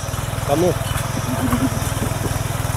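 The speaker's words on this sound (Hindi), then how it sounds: "तो भाई अब पतिदेव ने फाइनली पकड़ दिया है ट्रैक्टर हम सबके बाद।" A tractor engine chugs steadily at close range in a rural village, a low regular pulsing that runs under brief speech and other voices throughout.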